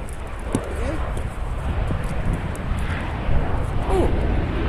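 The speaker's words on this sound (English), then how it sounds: "Aeroplane." An aeroplane passes overhead while someone works on a boat roof, a steady, faint broadband drone that runs throughout, with occasional brief voice sounds and small knocks on top.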